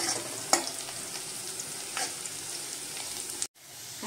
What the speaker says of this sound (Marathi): आता ह्या मी 2 हिरव्या मिरच्या कापलेल्या आहेत, तर त्या टाकते मी। हे सर्व आता चांगलं आपण भाजून घेऊया।